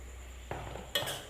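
A utensil stirs spices and marinated chicken frying over low heat in a pan for a curry, giving two quick metallic scrapes and clinks against the pan over a faint sizzle, quiet and close.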